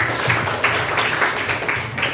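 A class of students in a classroom claps together in a rhythmic round of applause, with regular bursts of hand claps close by and at moderate loudness.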